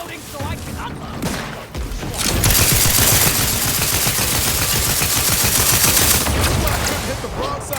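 Video game gunfire in Outer Worlds 2: a sustained burst of rapid automatic shots fills several seconds at close, loud level, preceded by scattered single shots and game voices.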